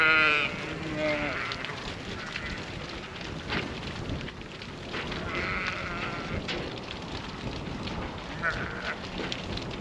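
Sheep bleat intermittently while being moved across water on a farm, several calls rising over steady outdoor noise and sloshing, with people talking in the background throughout.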